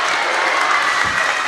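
Spectators at a high school volleyball sectional semifinal in Pecatonica cheer and clap as the home crowd rises at match point, a loud, steady wash of applause and crowd noise throughout.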